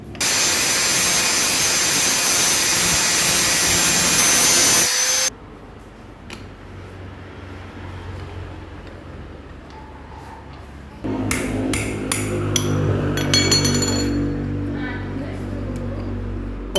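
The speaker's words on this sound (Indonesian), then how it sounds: "sekarang pembubutan manual sudah selesai" Manual lathe turning of a CDI magneto ring for a Neotec ignition: a loud, steady broadband cutting whine for about five seconds, then quieter workshop hum, with metallic clatter and tool noise returning near the end.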